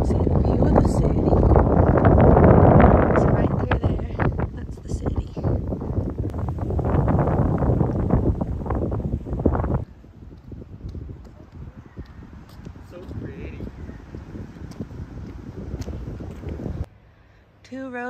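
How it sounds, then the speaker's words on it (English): Strong wind buffets the microphone in loud, rumbling gusts that ease partway through, with voices faint underneath, on a high lookout at Zealandia above a city. "It's a bit windy up here."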